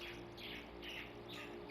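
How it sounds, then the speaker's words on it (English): Birds chirping outdoors, a short run of about four bright, repeated tweets in an even rhythm, faint and somewhat distant over a quiet steady background hum, with no talking. "almost the entirety of the recording thus far, I can hear the damn birds"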